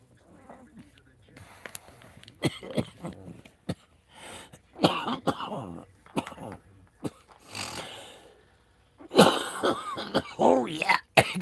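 Repeated harsh coughing bursts from a person, several in a row with pauses, including a louder cluster near the end, with faint throat-clearing and breathy sounds between.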